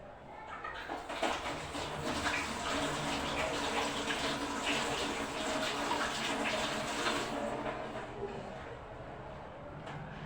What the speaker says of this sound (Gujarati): પહેલાં તો હવે આપણે હાથ ધોઈ નાખીએ